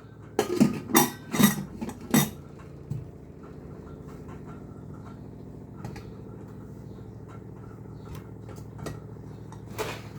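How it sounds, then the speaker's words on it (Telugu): A stainless pressure cooker lid clanks onto the pot in a kitchen, several loud metallic knocks and clinks in the first two seconds, then quieter faint ticks and taps over a steady low hum. "ఇది ప్రెషర్ కుక్కర్ మూత పెట్టేస్తున్నా"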